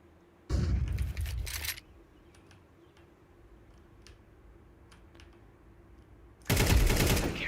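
Gunfire in a video game, with loud bursts of automatic fire near the start and again at the end, a quieter stretch of scattered ticks between them, and a flashbang thrown in the middle of the fight.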